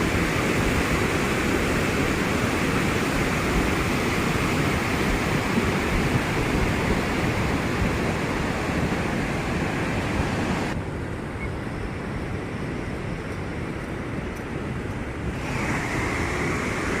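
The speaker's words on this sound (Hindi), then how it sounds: "ब्यास नदी का विकराल रूप" The flooded Beas river in Kullu roars past in a dense, unbroken rush of churning water, loud and close, with wind buffeting the microphone and no voices.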